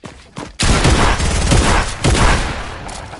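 A video-game shotgun fires close and loud. After a couple of softer pops comes a heavy blast, then a second booming shot about a second and a half later, with dense rumbling echo between them.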